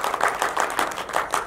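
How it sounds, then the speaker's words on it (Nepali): Audience clapping for Paul Shah at an event: quick, steady, rhythmic claps repeating about five times a second, close and fairly loud, with no voices. "यसरी जोरदार ताली पलका लागि।"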